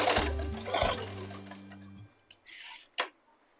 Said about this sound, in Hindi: और ये वाले भाग को इस पे रख के ऐसे सिलाई कर लेंगे।